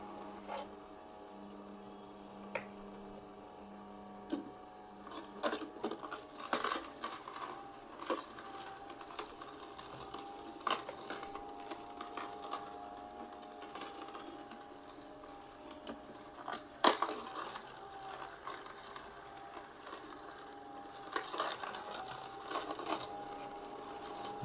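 A Kuvings B1700 cold press juicer crushing produce, a steady low motor hum with irregular squeaks, crunches and liquid sounds as pieces are pressed, continuous and fairly close with no talk.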